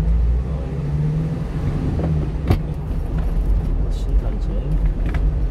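A truck pulls away on a road near the Sintanjin tollgate, a steady low engine rumble and road roar with a faint rattle, heard from inside a vehicle with talk over it.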